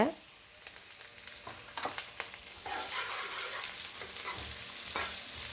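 Chopped onion and curry leaves fry in a hot pan, a soft sizzle that swells louder and denser halfway through as they go in, with scattered spoon scrapes and stirring knocks throughout.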